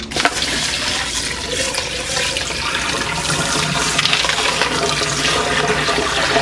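Ice cold water pours over blanched malunggay leaves in a kitchen, a continuous loud rushing splash that runs steadily from start to finish, close up and without talk.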